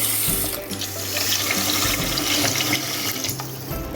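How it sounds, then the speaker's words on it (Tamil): Tap water gushes steadily into the bottom pot of an electric rice cooker, a loud continuous splashing stream with no voices. "இப்போ இதில் வந்துட்டு தண்ணி ஊற்றிக்கலாம்."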